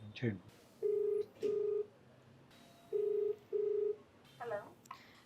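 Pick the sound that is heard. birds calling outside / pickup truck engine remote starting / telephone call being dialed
telephone call being dialed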